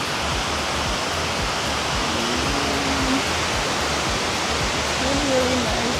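Loud, constant rush of a waterfall in San Antonio dominates throughout, with brief voices talking faintly underneath the roar.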